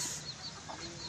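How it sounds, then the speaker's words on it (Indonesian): Chickens cluck near a clump of petuk bamboo in Bogor, with a steady close clucking and a brief louder call partway through, with no talking. "Ini ayam-ayam galak sekali ini."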